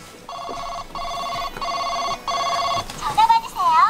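A Secret Jouju toy smartphone plays four evenly spaced electronic ringing bursts, a clear, close, looping tone, before a bright child-like voice clip from the toy follows.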